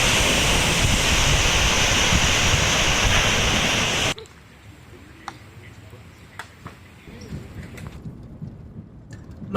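Loud waves break on Lake Superior after a storm, a dense crashing roar for about four seconds that cuts off abruptly to quieter surf with scattered splashes and ticks.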